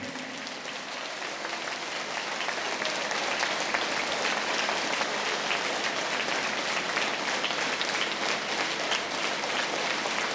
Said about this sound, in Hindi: अभी तालियां कमजोर हो गई हैं।